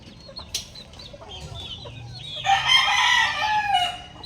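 Backyard chickens cluck softly nearby before a rooster lets out a loud, drawn-out crow that dominates the second half, with faint farmyard background noise and no talking.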